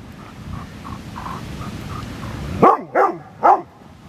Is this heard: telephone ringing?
no